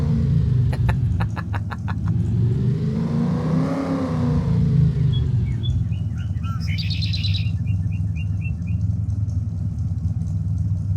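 A truck in Farming Simulator 25 revs hard as the driver tries to burn its tires, the engine swelling to a loud roar and falling back while synthetic bird chirps play in the background.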